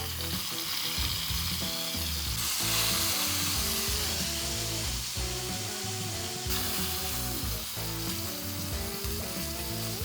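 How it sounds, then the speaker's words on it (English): A steak sears in a hot pan with a loud, continuous sizzle and crackle, close up and steady with brief surges, while faint musical tones run underneath. "This steak is nicely seared."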